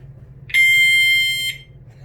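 A fire alarm being tested blares a loud, steady high-pitched electronic tone for about one second, starting and stopping abruptly over a low background hum.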